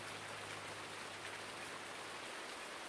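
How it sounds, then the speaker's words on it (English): Steady rain pours down in a Farming Simulator 19 farmyard beside a small shed sheltering a Ford tractor, a dense, even hiss of drops with a low hum underneath, constant throughout with no talking. "It's been raining so far this morning. It's just rain, rain, rain."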